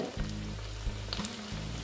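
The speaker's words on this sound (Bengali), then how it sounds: "এটা প্রায় ভাজা হয়ে গেছে।" Flattened rice and potato snack frying in hot oil in a pan, a steady close sizzle with soft stirring pulses, no voices.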